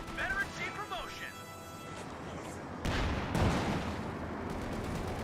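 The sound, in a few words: 50 cal machine gun fire, Company of Heroes 2 video game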